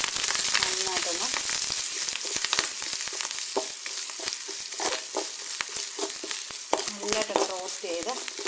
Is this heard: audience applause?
no